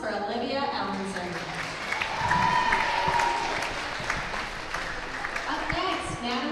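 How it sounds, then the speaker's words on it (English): A crowd in a school gym at a high school volleyball game gives a steady round of applause that swells slightly midway and continues evenly throughout. "Let's give a round of applause for Olivia Ellenson."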